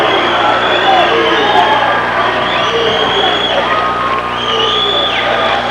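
A boxing arena crowd at a Louie Lomeli vs John Duplessis fight keeps up a steady, loud murmur of chatter and babble while awaiting the ringside judges' decision, with no clear cheer breaking through.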